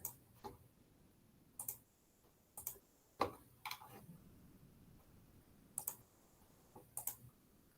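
A computer mouse clicks in short, sparse bursts during an online meeting, faint and close, with quiet gaps between presses and no talking.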